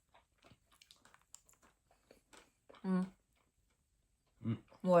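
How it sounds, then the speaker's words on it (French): Crunchy chocolate is chewed close to the mic with a scatter of faint, irregular crisp crackles and bites. Voices speak briefly in between. "ça croustille sous la langue"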